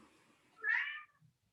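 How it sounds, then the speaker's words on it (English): A house cat gives a single close meow, rising and then trailing off, with quiet room tone before and after. "Oh, kitty. Yes, my kitty."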